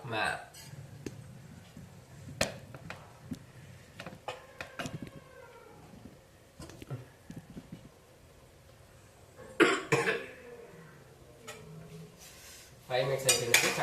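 Pot and utensil clatter while cooking chicken masala for a Telugu chicken curry, with scattered clinks and a louder metallic lid bang near the end, mixed with coughing and talk.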